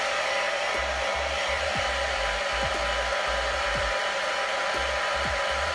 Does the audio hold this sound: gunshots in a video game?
no